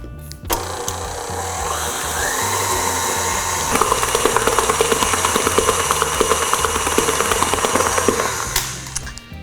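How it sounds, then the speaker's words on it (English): An electric mixer whirs steadily while blending pink boysenberry frosting for a checkerboard cake. The motor hum is continuous and fairly loud, with faint rhythmic ticking from the beaters against the bowl, and no talk. "let's mix that"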